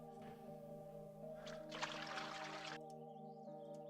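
A water click effect of the kind used in Minecraft, heard quietly as a short burst of splashy, bubbling noise over a droning tonal background.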